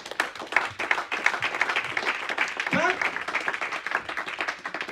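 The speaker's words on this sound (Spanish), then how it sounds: "Denle palmas de alabanza a Él." A church congregation claps in praise, a steady, fairly even patter of many hands that runs throughout while a preacher keeps speaking over it.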